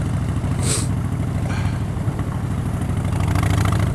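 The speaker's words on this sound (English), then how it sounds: "I think I've still got one of the loudest bikes on the island" A loud motorcycle idles nearby with a steady, throbbing low rumble, broken by a brief sharp higher burst early on, the engine note holding constant throughout.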